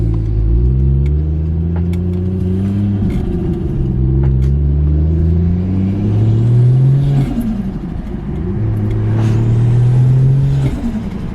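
Turbocharged Ford Falcon FG engine fitted with a Turboside intake, loud close revving in repeated rising and falling sweeps with turbo whoosh and rumble, three or four pulls over a steady idle.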